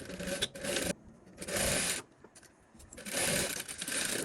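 Sewing machine stitching a royal velour evening dress, three bursts of rapid, buzzing needle runs separated by short pauses, close and clear with no voices.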